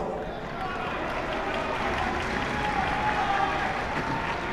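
A large crowd at a political rally in Pakistan makes a constant, loud roar of shouting. A speaker's voice rises over the crowd.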